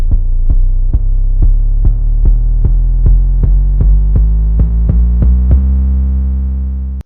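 An 808 bass in BandLab, stepping down one pitch per key. About a dozen deep, booming notes fall in an even, steady rhythm, each with a short attack, and the last note rings out and fades alone.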